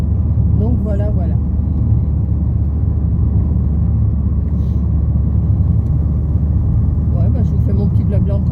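Car driving on the road heard from inside the cabin, a steady low rumble of engine and tyres running throughout beneath someone talking.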